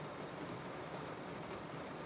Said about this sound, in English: it had started raining really hard